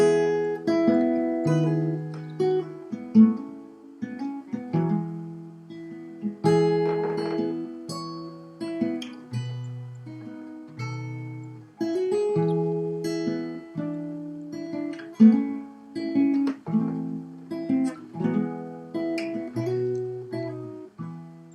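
Acoustic guitar plays the opening riff of a song, a steady run of plucked single notes and chord strikes with clear attacks and ringing decays, close and alone.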